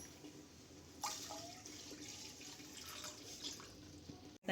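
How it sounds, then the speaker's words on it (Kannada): About one and a half glasses of water are poured into a pan while making pineapple kesari bath, a soft, steady splashing stream that begins suddenly and runs for a few seconds. "ಒಂದೂವರೆ ಗ್ಲಾಸ್ ನೀರು ಹಾಕ್ತಾಯಿದ್ದೀನಿ."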